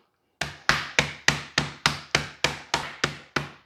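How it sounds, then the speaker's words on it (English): A rolling pin pounds chicken flat inside a zip-top bag, striking eleven times in a steady, even rhythm. Each blow lands as a close, sharp, woody thud with no talking. "I'm going to take my rolling pin, and I'm going to pound them"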